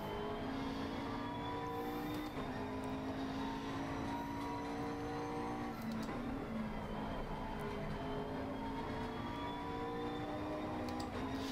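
A GT3 race car engine in the Assetto Corsa Competizione video game at Zolder, a sustained high-revving drone with gear changes and slight pitch shifts, steady and quiet throughout with no talk.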